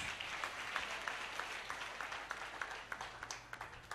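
A church congregation claps to acclaim Jesus, a faint, distant patter of applause that settles into a quick rhythmic beat of hand claps.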